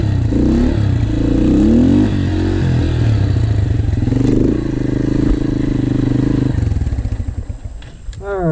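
Yamaha TTR 125 dirt bike engine revving and bogging as the rider pulls wheelies, a loud close-up motor rising and falling for several seconds before throttling off near the end.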